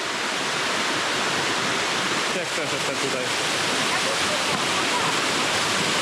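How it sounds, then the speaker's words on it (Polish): A waterfall in Iceland's Eastern Fjords roars close by in a loud, steady wash of falling water, with someone speaking briefly over the rushing noise. "jest po prostu moim zdaniem najładniejszy spośród wszystkich wodospadów"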